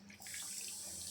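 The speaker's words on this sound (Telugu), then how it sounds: "వాటర్ వేసేసి ఒకసారి కలియబెట్టి" Water pours steadily into a pan of brinjal curry cooking with masala, a continuous close splashing rush that starts softly and then holds at an even level throughout.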